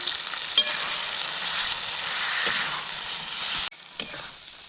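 Cumin and Kashmiri red chili powder frying in a pan for a Bengali fish chorchori: a loud, close, steady hiss with a few scraping stirs, then a sudden drop to a quieter sizzle near the end.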